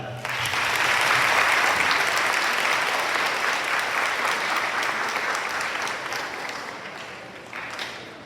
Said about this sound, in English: Please give a round of applause for Ms. Paget